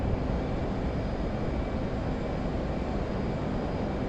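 An F-18C jet taking off heavily loaded with GBU-24 bombs in DCS, a loud steady engine roar with broadband rushing noise and a faint whine, constant throughout with no talk.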